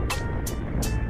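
A motorcycle idles with a Tsukigi Dexter Thailand aftermarket exhaust, giving a steady, smooth, low rumble with no loud revving and no talk over it.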